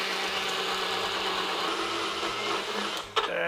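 A blender whirs loudly and continuously as it churns ice for a frozen margarita, a dense grinding roar that stops abruptly near the end with a clunk.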